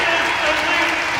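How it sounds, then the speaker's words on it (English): An arena crowd at a Sheffield Steelers ice hockey game roars and applauds for player Robert Dowd, a loud, steady wash of cheering and clapping throughout. "A huge cheer for Robert Dowd."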